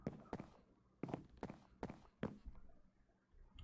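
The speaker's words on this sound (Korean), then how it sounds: "뭐지 발소리가 들려" Footsteps in a Jack the Ripper video game, five or six evenly spaced, fairly close steps with a slight scuffing quality over a quiet room tone, no talking.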